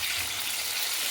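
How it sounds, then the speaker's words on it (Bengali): Chicken pieces deep-frying in very hot oil, a steady close hiss and crackle of sizzling filling the moment without pause. "এখানে জোর কদমে ভাজা চলছে।"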